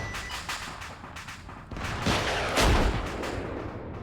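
Tank gunfire rattles in a video game battle, with a string of sharp cracks followed by heavier booming blasts that grow louder toward the middle, in a tense combat scene.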